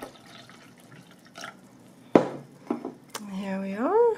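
Apple cider vinegar pours into a container for a homemade salad dressing, a short splash followed by a rising liquid gurgle as the vessel fills, close and moderately quiet, with a few light clinks and handling noises before it.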